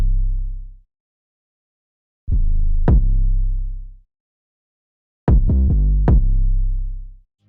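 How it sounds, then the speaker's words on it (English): Simple 808 bass pattern layered with a kick drum pattern in a hip-hop beat: two loud booming bass phrases with punchy kick hits, separated by a gap of silence, with no talking. "And this kick pattern follows the simple 808."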